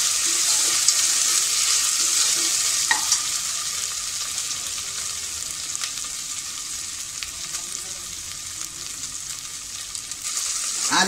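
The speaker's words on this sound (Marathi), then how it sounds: "आलं लसूण आपलं छान परतून झालं आहे." Ginger garlic paste frying with pink-browned onion in a pan for a bottle gourd and chana dal dish, giving a bright, continuous sizzle with occasional light clicks of stirring, close and steady, no talking.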